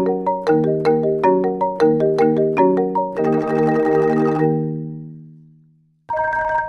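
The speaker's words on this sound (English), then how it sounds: "Sometimes you want a really close marimba sound for certain things." A close-miked marimba plays a quick run of bright, woody struck notes in a steady rhythm, then a held roll that decays into silence, followed by a brief final burst of notes, loud and alone.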